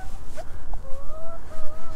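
Free-range chickens on a mobile organic poultry farm cluck close by, short drawn-out clucks and calls repeating over a low background rumble.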